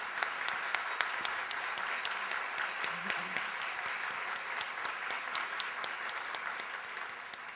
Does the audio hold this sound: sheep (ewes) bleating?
no